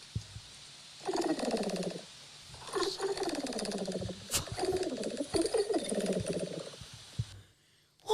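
A person imitates pigeon cooing, giving a few drawn-out, warbling vocal coos in separate bursts with short pauses between them, close and clear in an otherwise quiet setting.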